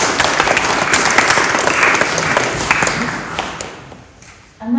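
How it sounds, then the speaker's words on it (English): Audience at a talk in Bampton, Oxfordshire breaks into loud, dense applause that holds steady, then thins and fades toward the end as a voice begins. "Round of applause,"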